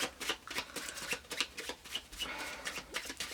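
A Harry Potter playing card deck being shuffled gives a soft, continuous riffling and flicking of cards close by, with quiet rustling throughout.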